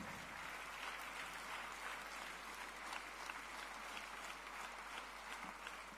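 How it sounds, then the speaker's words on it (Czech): Faint, distant applause from an audience at the Muž roku 2022 award ceremony, an even wash of clapping that holds steady for several seconds without speech over it. "Velký potlesk."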